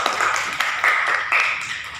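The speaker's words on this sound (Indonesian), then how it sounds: "Kita berikan tepuk tangan." Audience applause at a group presentation meeting, a steady dense wash of hand clapping in a room, loud and continuous for a couple of seconds.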